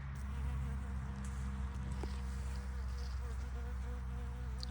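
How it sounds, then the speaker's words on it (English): Bumblebees buzz around the flowers of a home garden at the end of the season, a steady close insect drone holding under faint background hum with no talking. "It's so nice to see the bumblebees."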